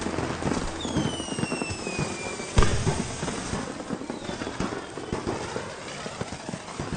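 A dense crackle of Diwali firecrackers and fireworks pops continuously, with one louder bang near the middle and whistling rockets streaking high overhead.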